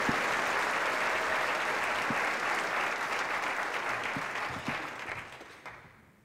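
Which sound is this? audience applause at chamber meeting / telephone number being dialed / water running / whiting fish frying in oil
audience applause at chamber meeting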